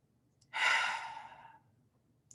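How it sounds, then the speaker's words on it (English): A single long, deep breath out, a breathy exhale swelling quickly then fading over about a second, close and alone in a quiet room during a guided relaxation moment. "Just do some deep breathing."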